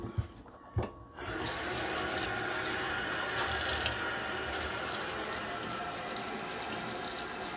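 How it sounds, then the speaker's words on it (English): Water poured into a cooking pot: after a couple of brief clicks and knocks, a steady rushing stream of tap water runs continuously for several seconds, close and moderately loud, with no talking. "I'm going to add a little water."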